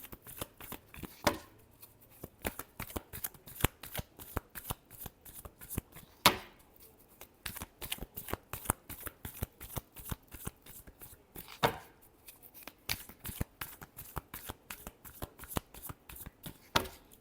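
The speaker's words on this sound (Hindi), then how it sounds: "Last shuffle." Tarot cards being shuffled by hand, a quick steady rhythm of crisp riffling flicks repeated throughout, with a few sharper snaps, close and clear with no talking.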